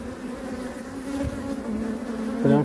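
Honeybees at an open top bar hive near a reservoir in May hum steadily at close range, a dense continuous drone with one bee buzzing louder past the microphone at the end.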